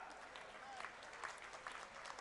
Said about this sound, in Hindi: जब आप इतने प्रेम से ताली बजा के बात का समर्थन कर रहे हैं